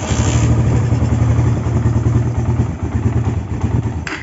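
A Suzuki Satria FU motorcycle engine bored up with a Tiger oversize 250 piston and running a vacuum carburetor, revving loud and close in a steady, throbbing run before easing slightly, with no talking.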